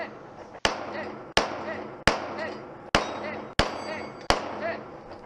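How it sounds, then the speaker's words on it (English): Rifle shots from an X5 striking steel targets at a shooting competition, six sharp loud cracks at regular intervals, each followed by a ringing metallic clang and a decaying echo. "The shooter now must use the X5 to place 3 hits on each of the steel targets."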